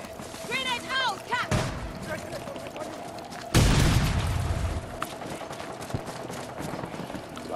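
A grenade blast in the Battlefield 2042 shooter game lands as a sudden loud boom with a rumbling tail, preceded by a sharp shot and followed by scattered gunfire, with voices talking over the action.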